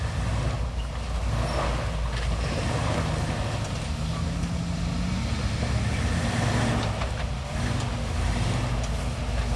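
An off-road Ford Bronco climbing the rough, rocky John Bull Trail, with a continuous loud engine drone and labouring rumble heard close by, accompanied by crunching and scraping over rock and no talk.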